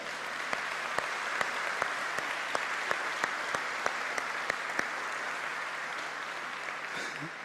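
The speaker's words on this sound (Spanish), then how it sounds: "¿Querés aplaudir? Aplaudir." A church congregation applauds steadily during a sermon, dense crowd clapping with a few sharper individual claps standing out at a regular beat, continuing at an even level throughout.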